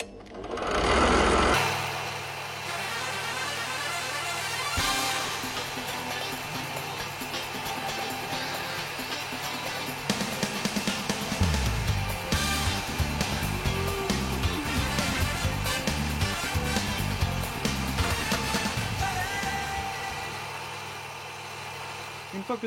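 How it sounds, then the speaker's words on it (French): An electric drill whirs steadily and loudly throughout during a Mazda RX-8 rotary engine rebuild, its motor running continuously with a rattling, grinding texture that shifts partway through. "Donc il n'y a plus qu'à mettre la perceuse en route et puis on y va."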